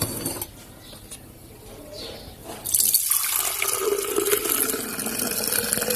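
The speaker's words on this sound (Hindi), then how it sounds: "अब हम इसे जग में डालेंगे।" Falsa sharbat poured into a jug: a few seconds of near quiet, then a sudden, steady, close splashing pour of liquid that continues to the end, with no talking.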